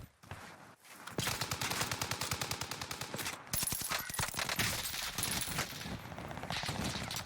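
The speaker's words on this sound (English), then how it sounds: "Teammate shooting at us from what looks to be that little shed over there" Rapid bursts of automatic gunfire from the video game Call of Duty Warzone rattle out almost continuously, loud and close, with brief gaps between volleys and no talk.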